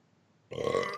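A single loud, guttural burp starts halfway through and lasts about half a second, close and alone after near silence.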